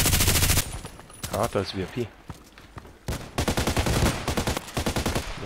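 Loud automatic gunfire from the shooter game Contract Wars comes in repeated rapid bursts, with short pauses where single shots and mechanical clicks are heard, and someone speaks briefly during the firing.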